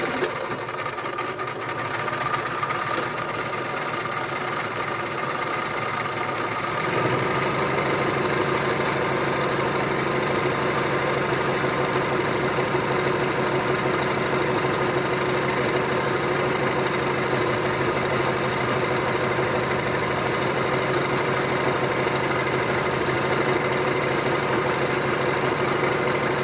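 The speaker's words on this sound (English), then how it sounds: "So I'm going to sew my last 2 pieces" A sewing machine stitches the last two pieces of a fabric bow brooch, a steady mechanical whir that runs the whole time at an even pace, picking up slightly after the first few seconds, with no talking.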